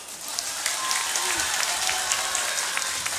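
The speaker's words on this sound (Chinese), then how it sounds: "如果同意的，请给我鼓掌一下" Audience applauding at a members' assembly vote, a steady burst of clapping from a crowd lasting the full few seconds, fairly loud and evenly dense.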